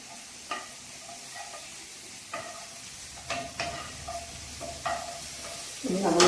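Onions sauté in a pan for a chickpea curry, making a soft, steady sizzle broken by repeated scraping strokes of stirring, growing louder near the end.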